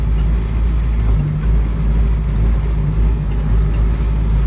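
A loud, rumbling 1967 Ford Mustang engine chugs steadily as the car pulls away, its deep low drone dominating throughout with no voices.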